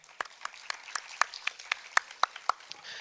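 A small audience claps for a student speaker, sparse individual hand claps spaced out and fairly quiet, distinct separate slaps rather than a dense roar, heard in a school hall setting.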